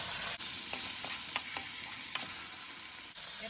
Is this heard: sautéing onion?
yes